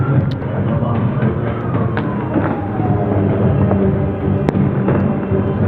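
Firecrackers are set off in a celebration after an election in Türkiye: scattered sharp pops and bangs, some near and some distant, over a steady rumbling background while someone talks throughout.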